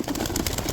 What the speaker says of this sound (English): These birds have been sitting here, and we're gonna let them go.